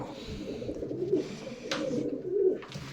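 Pigeons in a pigeon loft coo softly and repeatedly, low throaty calls overlapping at close range with faint rustling and background noise, no talking.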